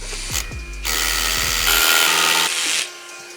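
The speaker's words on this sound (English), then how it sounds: "So let's go for the drilling." A cordless hammer drill grinds into concrete in a loud, harsh burst lasting about two seconds, with brief clicks before it starts.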